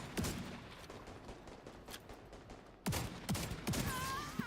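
Shotgun sniper fire in The Division, a crackle of distant gunfire broken by a few sharp, close, loud blasts toward the end.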